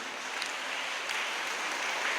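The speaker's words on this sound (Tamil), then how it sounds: "நீங்கள் உற்சாகமாக கைதட்டுவதை பார்த்தால்" A college audience clapping enthusiastically at a Thirukkural debate event in Madurai: dense, steady applause from many hands at moderate distance, continuing evenly throughout with no talk.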